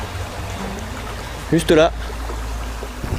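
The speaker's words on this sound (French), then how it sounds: "Alors là on a la rivière, on vient d'atteindre la rivière." A river flowing through a forest, a low continuous rushing wash beneath a brief spoken remark.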